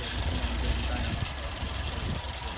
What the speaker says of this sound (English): rattle in here, which I don't think is normal